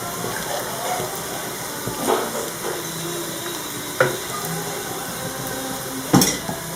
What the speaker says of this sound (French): Alors je vais rajouter de l'eau bouillante.